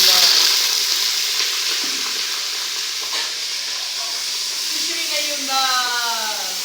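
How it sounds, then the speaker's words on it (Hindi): Washed onions drop into a hot pan and fry, producing a loud, bright sizzle that starts strong and gradually settles into a steady hiss, with faint tonal kitchen sounds toward the end and no speech. "इसमें हम डालेंगे धुले हुए प्याज"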